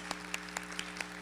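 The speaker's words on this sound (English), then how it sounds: "I think they deserve one more round of applause" A graduation ceremony audience applauds, with steady, dense clapping that sounds distant and reverberant and carries a few sharper individual claps.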